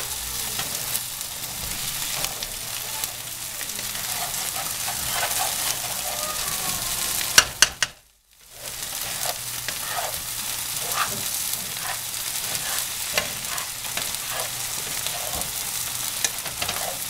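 Soft carrots sizzling and frying in a pan as the last liquid cooks off, a steady bright crackle with faint stirring clicks and a brief dropout midway, with no talk over it.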